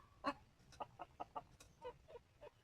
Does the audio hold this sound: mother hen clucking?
yes